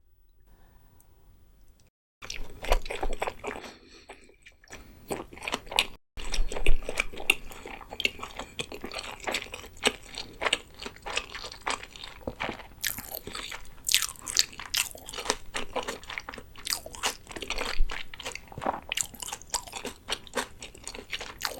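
Close-up mukbang eating of soy sauce salmon inari sushi, with wet chewing, soft crunching and clicking mouth sounds repeating steadily after a quiet opening, and no speech.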